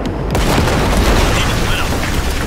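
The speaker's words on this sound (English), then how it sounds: "there's a monster gate that needs to be blown open" A powerful explosion blows open a massive gate in Cyberpunk 2077, a loud, sustained booming roar that fills the whole stretch after a brief quieter start.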